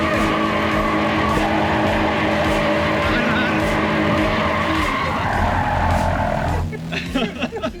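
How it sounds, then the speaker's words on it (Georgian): A drifting car slides with its tires skidding in a long, loud, continuous screech over a roaring engine at a drift event. The skid fades near the end into rough engine and tire noise. "როცა დაიწყეთ დრიფტს ანუ რო იგრძნობ რომ მანქანა მოცურდა"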